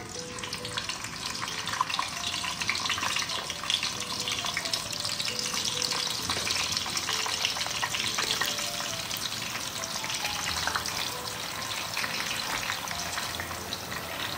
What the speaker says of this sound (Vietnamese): mình bắt cái chảo dầu lên lại để mình chiên cái chuối này cho nó ngấm à, đường ha và nó sẽ giòn hơn